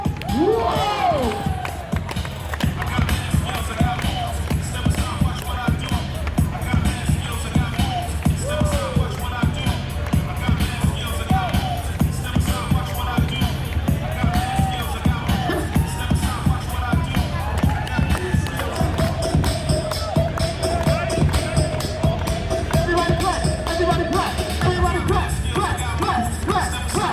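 A crowd gathered for a street entertainers' show on Fremont Street, Las Vegas, with continuous babble of many voices, some shouts and a loud voice over the noise, dense and busy throughout.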